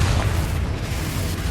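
A Confringo spell explosion in Hogwarts Legacy lands as a short, dense burst of low booming rumble, loud and close, filled with crackling noise throughout the brief moment.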